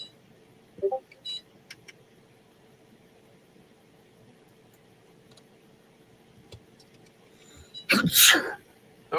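A single sharp sneeze bursts out loudly near the end, alone, after quiet workshop ambience with a few faint ticks and clicks during drive and electronics repair work.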